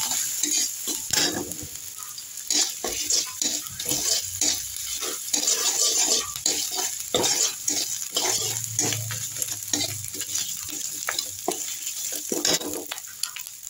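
Leafy greens (saag) frying in a pan with a torn bay leaf and grated ginger, sizzling steadily while being stirred, with repeated scraping strokes close up and no talk.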